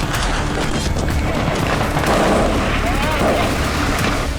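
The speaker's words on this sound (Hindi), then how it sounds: "लाइव फायरिंग की प्रैक्टिस हो रही।" Live-fire gunfire at a Houthi military drill crackles in dense outdoor bursts with booming reports over a constant noisy wash, loud throughout.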